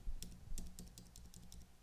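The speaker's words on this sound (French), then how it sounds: "je vais appuyer sur la touche majuscule ou Shift de mon clavier" Computer keyboard keys pressed in a quiet room, including the Shift key, a series of about eight light, crisp clicks in quick uneven succession, close but soft, with no talking.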